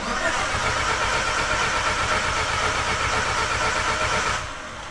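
A fully built 2.3 liter stroker engine in an Evo wagon car runs loud and rough right after starting, a dense, steady mechanical roar that drops off sharply just before the end.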